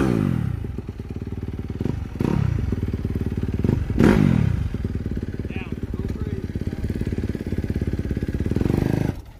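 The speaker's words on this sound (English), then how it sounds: "Because the idle's so high, like Joe said, it's gonna take off." Four-stroke dirt bike engine idling high and then pulling away, a steady close motorcycle drone with a few thumps and clatters along the way, running beneath voices talking.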